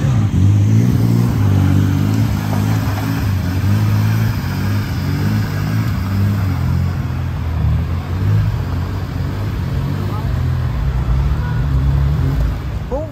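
A Volkswagen Jetta engine idles and revs loudly up close, with a steady deep rumble and rising and falling engine tones across the whole stretch.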